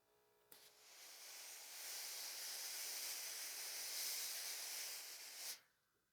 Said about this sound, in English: I have a really steamy iron.